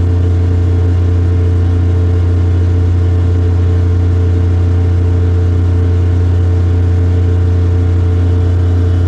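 A freshly started engine idles on, a loud, constant, even hum with a steady low throb and no change in pace, alone without any voices.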